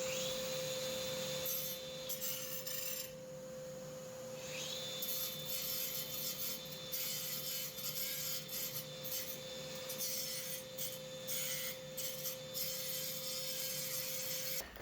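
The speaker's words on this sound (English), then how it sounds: "we're just going to grind this and see if we can't clean up this edge a little bit" A power grinder works the messy edge of a luxury vinyl plank (LVP) floor board during floor laying, a steady abrasive whine with a constant high tone running throughout, with no talk.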